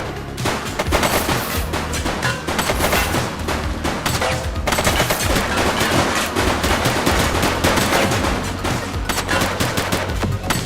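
Dense, continuous gunfire from a shootout in The Precinct video game, rapid overlapping shots and automatic bursts with no pauses, loud and close throughout.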